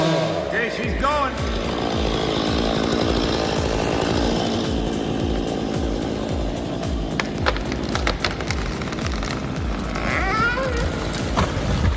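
Big chainsaw felling trees in heavily falling snow, running loud and continuous as it cuts, the engine note pulsing steadily under scattered woody cracks and clatter throughout.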